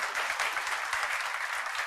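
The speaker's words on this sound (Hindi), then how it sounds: "अरे तालियां तो बजाओ एक बार यूं।" An audience at a motivational talk claps in a brief, dense burst, many hands at once and evenly loud throughout.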